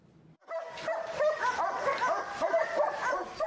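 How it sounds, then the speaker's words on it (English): A three-year-old German Shepherd military dog barks and yips in an agitated run of rapid, close, fairly loud bursts after a brief quiet start. "This 3-year-old German Shepherd is a true fighter"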